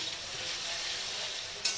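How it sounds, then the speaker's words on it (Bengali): Onions frying in a pan with salt, a continuous close sizzle at an even level, ending with a brief louder stir. "পেঁয়াজটা একটু হালকা ভাজার অপেক্ষায় রইলাম"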